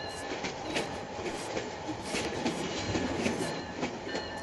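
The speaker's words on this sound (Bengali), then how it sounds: "এই যে আমাদের ট্রেনটা কিন্তু ছুটে চলেছে টিএসবিডি, মানে হচ্ছে ট্রেন সিউলেটার বাংলাদেশ" A train runs on rails in the Train Simulator Bangladesh video game, giving a continuous rolling rumble with rhythmic clickety-clack wheel beats and metallic squeal, heard close and steady throughout.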